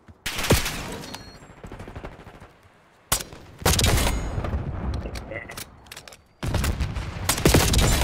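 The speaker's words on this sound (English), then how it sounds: "Cross the map grenade launcher kill right now." Explosive bursts from a grenade launcher in the Black Ops 6 shooter game come in three loud, sharp blasts spaced a few seconds apart. Rumbling gunfire and game noise fill the gaps between them.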